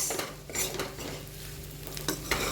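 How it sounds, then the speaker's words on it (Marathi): Sabudana khichdi stirred in a large kadhai over a medium gas flame: steady scraping spoon strokes against the pan over a soft, continuous sizzle, close and clear with no talking. "मोठी कढाई असली की असं हलवायला मिळतं आपल्याला"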